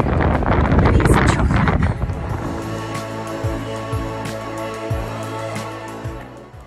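Strong wind buffets a cyclist in a headwind near Sliven, a loud blustery roar that dominates the first two seconds and then eases into quieter gusts over a steady low hum.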